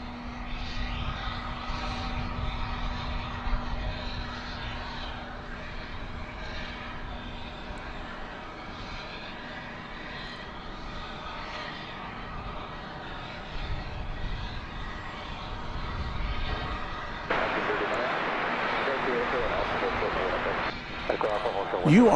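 A Frontier Airlines jet at Dallas/Fort Worth airport at night, a steady distant engine whine and rumble with a sustained tone, growing rougher and louder near the end.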